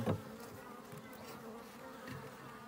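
Honey bees buzz at an opened horizontal hive, a faint, steady close hum of many insects with a brief louder knock at the start.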